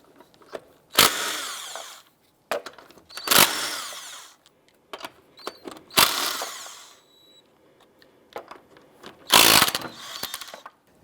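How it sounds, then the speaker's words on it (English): Ratchet wrench with a 19mm socket loosening lug nuts on a 2001-2005 Honda Civic, heard as several separate loud bursts of rapid clicking with short quiet gaps between them. "let's go ahead and remove our lug nuts."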